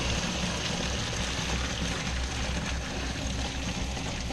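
Boiled potatoes and their cooking water are poured through a strainer, a loud continuous rushing gush of water splashing close by, steady for several seconds with no talking.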